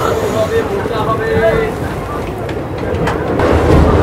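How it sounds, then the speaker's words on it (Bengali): A passenger train on the Howrah to Digha line pulls away from Tamluk station, a continuous low rumble mixed with wind buffeting the microphone. "আর আমাদের ট্রেন তমলুক স্টেশন থেকে ছেড়ে দিল"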